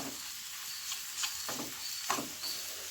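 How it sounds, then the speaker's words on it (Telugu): Ground chilli-garlic paste for boondi sizzles steadily in hot oil, a soft, close frying hiss broken by a few brief stirring scrapes, with no talking. "ఇలా బాగా వేయించుకొని"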